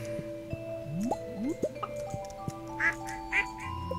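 Ducks quack in the farming game Stardew Valley, a run of small bouncy synthetic quacks alongside dripping, squishy game sound effects, fairly soft and with no talk.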